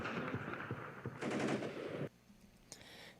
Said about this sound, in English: A burst of gunfire just misses my head.